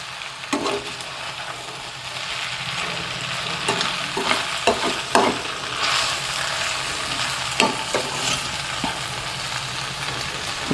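Veg noodles with soy sauce are stirred in a hot pan, giving a continuous sizzle broken by repeated scraping and clattering strokes of the utensil, close and fairly loud throughout.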